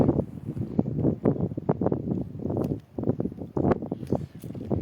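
Steady gusting wind buffets the microphone, a continuous low rumble that swells and dips throughout with no voices.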